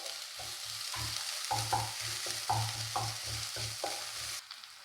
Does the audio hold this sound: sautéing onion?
yes